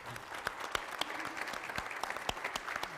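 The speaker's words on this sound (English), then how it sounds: "let's give Don a round of applause" A crowd applauds Omaha Beach veteran Don Hayhurst, with dense, continuous clapping from many hands that holds steady throughout and has no voices over it.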